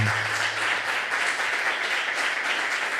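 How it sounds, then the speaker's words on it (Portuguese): Audience applause after a talk by percussion master Cacá Malaquias on baião and maracatu variations, a steady wash of clapping that holds at an even level throughout with no voices over it. "Queria que nós aplaudíssemos aí o Cacá"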